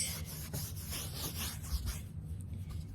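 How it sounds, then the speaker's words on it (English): A cotton square rubs oil pastel across paper in quick, close, soft scratchy strokes, repeating steadily with no talking. "Then I'm going to take my cotton square again. I'm going to rub it"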